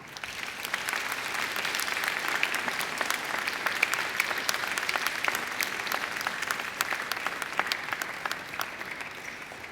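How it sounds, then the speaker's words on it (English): Graduates give a mighty round of applause to families and friends at a university graduation ceremony, a dense, steady wash of many hands clapping for about ten seconds with no talking. "I invite you to give them a mighty round of applause"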